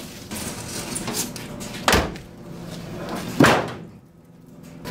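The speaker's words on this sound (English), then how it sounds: "that was the hood slamming shut" Two sharp slams from the hood of a Datsun 280Z being shut, the first near the two-second mark and the second about a second and a half later, each followed by a short ringing decay over a steady background hum.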